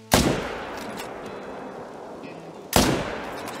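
Two loud, close rifle shots boom in theHunter: Call of the Wild hunting game, fired from a .300 rifle about two and a half seconds apart, each trailing off into a quiet ambient background.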